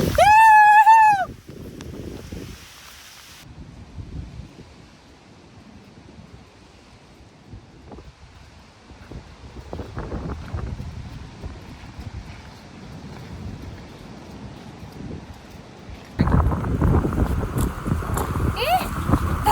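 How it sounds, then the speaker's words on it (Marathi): A waterfall in Goa during the rainy season: quiet rustling and scattered sounds give way near the end to a loud, steady, broadband rushing roar of falling water. "ए धबधबा. अरे आवाज ऐक की."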